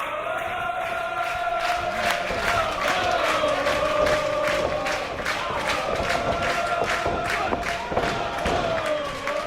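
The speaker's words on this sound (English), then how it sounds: "Man, what an atmosphere here in Dallas. Spirited crowd." A spirited wrestling arena crowd in Dallas cheers and roars continuously, with whistles, shouts and scattered thuds over a steady wall of noise, loud and close throughout.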